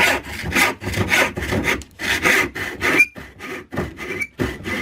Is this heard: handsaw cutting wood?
yes